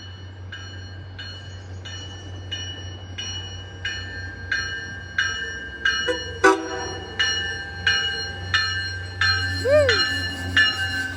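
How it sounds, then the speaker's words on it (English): A commuter train bound for Boston South Station pulls into Norfolk station past lowered crossing gates, with a loud horn blast, clanging crossing bells repeating steadily and a low engine rumble throughout. "Crossing gates are going down, and here is the train, right there."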